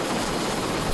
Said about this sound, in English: The chopper hovers low.